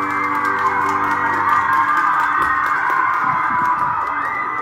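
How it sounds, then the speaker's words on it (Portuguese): A family birthday celebration for a granddaughter's fifteenth, where a crowd cheers and claps steadily throughout, with shouts and whoops blending into a continuous, loud roar of voices. "Pode bater palmas aí, pessoal"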